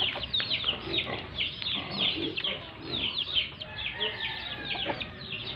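Eight-month-old white Kelso chickens, stag gamefowl, give repeated close clucks and squawks on a farm, with someone talking quietly underneath.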